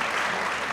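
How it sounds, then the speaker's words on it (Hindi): Studio audience applause on a Pakistani TV comedy talk show, a steady wash of many hands clapping, loud and even for under a second with no talk over it. "तालियां बजाइए।"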